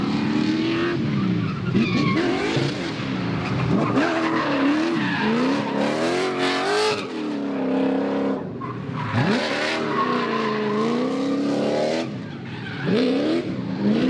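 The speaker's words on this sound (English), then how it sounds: "I'll insert a clip here of my first lap in the car, and you can hear how rev happy I am in it" An LS-swapped BMW E36 race car engine screams through constant gear changes and revs, with tire squeal mixed in, loud and continuous as it laps the track.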